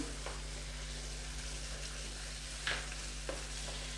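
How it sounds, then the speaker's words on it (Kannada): Mushrooms and ground coconut fry in a pan for a pepper masala: a steady, moderate sizzle over a low hum, with a couple of short stirring clinks and no talking. "ಇದೆಲ್ಲ ಹಾಗೆ ಸ್ವಲ್ಪ ಹೊತ್ತು ಫ್ರೈ ಆಗಕ್ಕೆ ಬಿಟ್ಬಿಡೋಣ."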